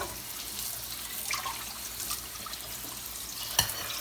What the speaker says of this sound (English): But first, we must wash them really well.